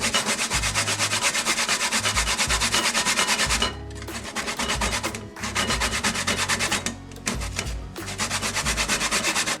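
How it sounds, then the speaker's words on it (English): Sweet potatoes grated the old-fashioned way on a small hand grater for a Jamaican pudding: continuous rapid scraping strokes, loud and near, broken by a few short pauses. "Get my little grater right here"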